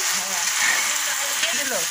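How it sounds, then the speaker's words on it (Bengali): Spices such as bay leaf, ginger, chili and ginger paste frying in a pan for a large devotional meal, a steady close broadband sizzle with faint stirring scrapes throughout, no voices. "এবার এটাকে হালকা করে ভেজে নেবো।"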